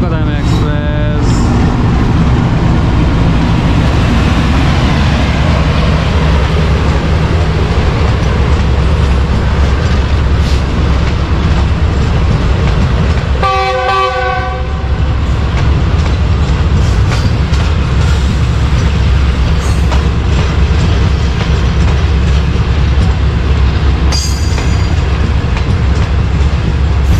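Karakoram Express passenger train passing close by, a loud continuous roar of rolling carriages with clattering wheel beats, a brief metallic squeal midway and a tonal whine near the end, with someone talking over it.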